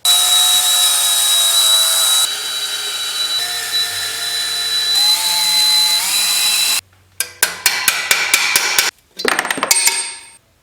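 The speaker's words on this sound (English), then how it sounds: "I'll go in, drill it clean out, and rethread the hole" A power drill bores out a stripped screw hole in the heat shield of a 1999 Kawasaki Prairie 300 ATV. It runs as a loud, steady whine for several seconds, then breaks into short, sharp bursts of drilling.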